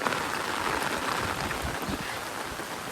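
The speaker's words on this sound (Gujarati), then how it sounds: "ધમધોકાર લગભગ 1 કલાકથી વરસાદ આવે છે" Heavy rain pours steadily in a village, a dense, even hiss of falling water that stays loud and close with no voices over it.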